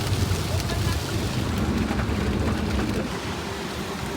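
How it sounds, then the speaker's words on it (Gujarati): Steady rain falls continuously, a dense wash of patter close by with a low rumbling undertone throughout. "વરસાદના ટીપા દેખાય ગયા આમ જો"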